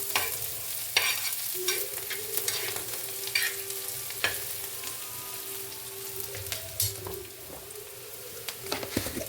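Onions sauté in a pan with salt, a steady sizzle under frequent stirring scrapes and sharp utensil taps against the metal, close up and alone for several seconds.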